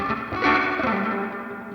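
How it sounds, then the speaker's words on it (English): A funky Stratocaster electric guitar runs through an auto filter, a psychedelic delay and a dub-style spring reverb, swelling into a sweeping, echoing, distorted chord wash that rings out and fades. "customized this Strat Funky auto filter patch to have this psychedelic delay in it and more of a true like kind of dub style spring reverb"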